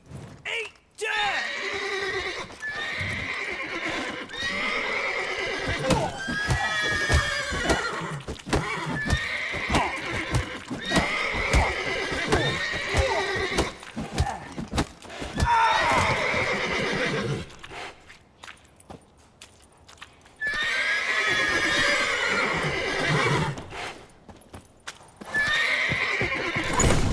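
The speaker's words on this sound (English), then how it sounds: "Gotta calm all the horses before they wake the guards." Horses whinny and neigh repeatedly amid steady clip-clopping hooves in the video game The Witcher 3: Wild Hunt, with voices speaking over the busy, continuous commotion.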